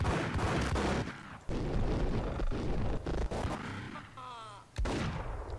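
Gunfire in the video game Max Payne, a dense run of sharp shots and booms lasting most of the stretch with brief gaps, loud and close, with game sounds mixed in.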